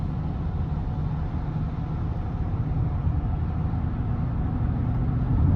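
A 2015 GMC Sierra 2500HD pickup with a 6.0-litre gas engine cruising up a gentle slope, a steady low engine drone and road rumble from inside the cab, continuous and even.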